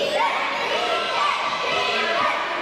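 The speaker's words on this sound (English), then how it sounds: "Crowd actually getting behind DJ right now." At a wrestling show, a crowd cheers and shouts steadily, with a few higher voices standing out over the continuous roar.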